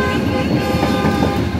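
An NLC railway locomotive horn sounding at a level crossing in Karachi, Pakistan, one loud sustained rich blast that holds steady and very near throughout.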